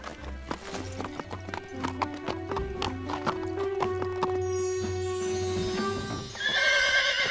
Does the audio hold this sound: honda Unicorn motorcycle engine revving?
no